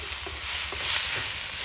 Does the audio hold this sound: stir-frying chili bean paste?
yes